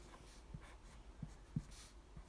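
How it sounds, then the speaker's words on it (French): Chalk or marker writing the word rectangle on a board in a French geometry lesson: soft, faint scratchy strokes with a few light taps, alone and without talk. "Je vais écrire rectangle."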